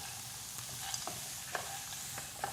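Peanuts and chili sizzle in a pan while being stir-fried for sayur asem, Indonesian tamarind vegetable soup, with a steady frying hiss and occasional scraping clicks of the spatula, up close and with no talk.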